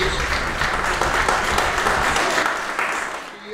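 Audience applause at the Saint Bernard of the Year 2023 dog show: a dense, sustained burst of clapping from a crowd that holds steady, then thins and fades near the end.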